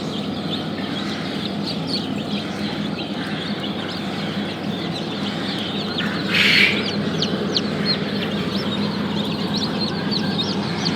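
Many hatchling chicks and quail cheep inside a homemade fridge incubator, a crowded, even layer of sharp peeps nearby, with one louder burst of calls about midway.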